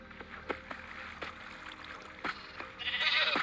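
Sheep bleat from a farm pen in a video game, a few short cries standing out over faint background game sounds, with no talking.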